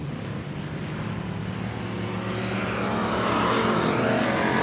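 Wissota pure stock race cars roar around a slippery dirt track at a night race as the pack dives into turn one, a dense wall of engine noise that swells louder toward the end, with no talk.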